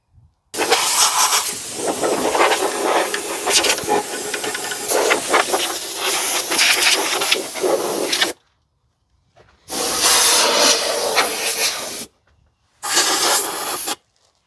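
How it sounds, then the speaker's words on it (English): Rust converter hisses loudly from a spray can onto the rusty cab bottom of a Ford Super Duty, in a long continuous burst followed by two shorter sprays with brief silent gaps, close and alone. "just a little bit more spraying to do with the rust converter"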